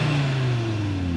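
An Audi RS3 engine pulls while driving, a smooth mid-pitched drone whose tone sinks slightly through a brief, steady stretch heard from inside the car.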